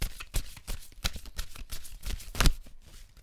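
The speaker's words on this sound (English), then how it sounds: "I'm being called to just pull one or maybe two more cards for you." Tarot cards shuffled and drawn by hand, a run of soft irregular riffling and flicking taps, close and fairly quiet, with one louder slap of cards near the end.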